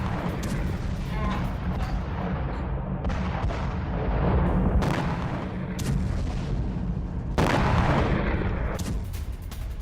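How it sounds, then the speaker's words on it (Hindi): A gas pipeline blast in Omsk, Russia rumbles as a roaring fire with deep booms, punctuated by several sharp cracking bursts over a constant loud low roar. "ये गैस पाइपलाइन में धमाके की एक और तस्वीर है"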